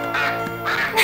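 A few honking goose calls, loud and close, coming in quick nasal bursts.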